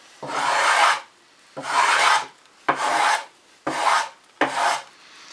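Five long rasping strokes of a hand plane chamfer a wood edge at 45 degrees, evenly spaced with short pauses between them, close and clear with no voices.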